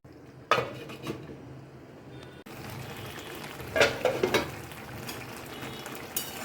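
Clatter of a metal lid set onto a cooking pan of spinach and vegetable chorchori with peas, a few sharp clinks near the middle over a low steady kitchen background, no talk.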